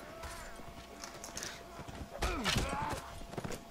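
Horses galloping in the video game Mount and Blade Warband multiplayer, a rapid clip-clop of hooves mixed with battle noise, a rising whinny-like swoop partway through, and a voice talking over it.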